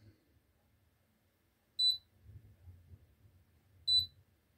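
Two short, high electronic beeps from a GD95 drone about two seconds apart, each sharp and clear over faint low background noise, indoors.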